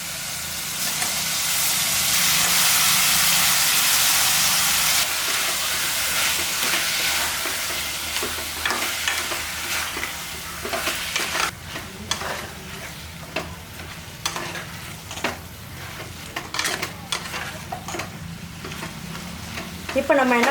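Jackfruit curry ingredients sauté in a hot pan for a mutton-style jackfruit kuzhambu, giving a loud, steady sizzle and hiss with intermittent scraping as the pieces are stirred.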